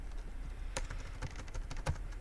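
Fingers type an IP address on a computer keyboard, a quick irregular run of close keystrokes with a couple of heavier taps, over a low steady room hum, no voices.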